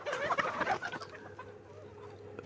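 Sonali chickens cluck in a busy cluster on a desi poultry farm, a burst of overlapping clucks and squawks that quickly thins to fainter calls over a low background hum.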